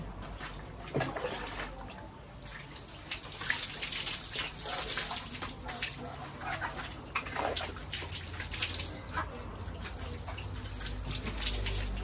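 Water pours and splashes steadily during a cold outdoor bath, close and continuous, with a few louder splashes and no talk.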